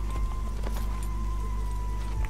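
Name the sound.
horse hooves clip-clopping in Assassin's Creed video game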